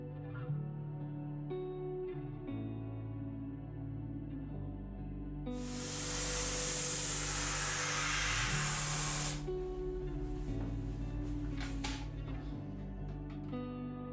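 A spray gun laying Raptor epoxy primer across a campervan floor gives a loud, steady hiss lasting several seconds, beginning and ending abruptly over a low background hum.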